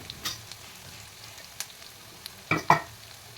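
Tomatoes dropped into a pan of sautéed onions for an eggplant kuzhambu give a couple of brief soft thuds and a short sizzle burst near the end, over a faint background hiss.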